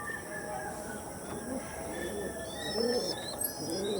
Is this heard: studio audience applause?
no